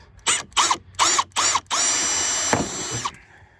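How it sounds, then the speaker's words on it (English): Power drill with a 1/8 bit drilling out rivets on a Jeep Wrangler JLU Sport fender, several short whining bursts followed by one longer sustained run, close and loud. "everybody knows how to drill out rivets"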